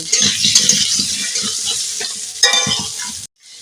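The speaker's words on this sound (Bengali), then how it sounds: "এবার দিয়ে দেব এই আলু দিয়ে অল্প করে হলুদ দিয়ে নাড়াচাড়া করে নেব" Potatoes with turmeric hiss loudly in mustard oil in a hot kadai, with close stirring clatter and bursts of sizzling before cutting off abruptly near the end.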